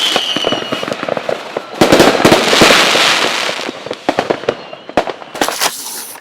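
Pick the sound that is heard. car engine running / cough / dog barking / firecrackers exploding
firecrackers exploding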